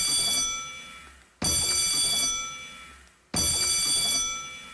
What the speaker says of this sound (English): in the original game, the alarm goes off about 3 times